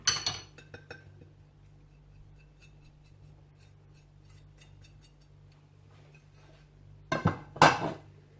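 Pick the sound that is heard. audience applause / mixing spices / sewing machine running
mixing spices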